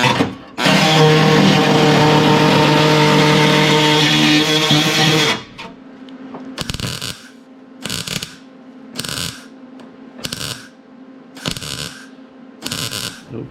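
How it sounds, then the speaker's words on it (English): Welding on an extended bell housing adapter that mates a 727 transmission to a 331 Hemi: a loud, sustained harsh crackle gives way to a steady series of short, evenly spaced welding bursts, close up. "Welding that."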